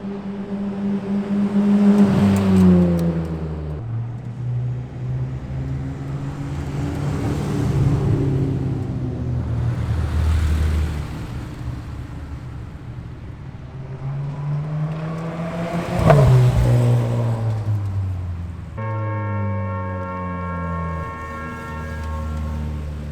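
Several race car engines rise and fall as they pass during a time attack at Suzuka Circuit, Japan, with a sharp buzzing roar near the middle and another engine revving at the end.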